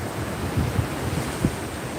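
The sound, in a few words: calm ocean waves on the beach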